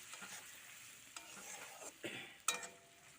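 Food stirred in a frying pan, with sizzling oil under short scrapes of the spoon against the pan; the scrapes grow sharper toward the end, and there is no talk.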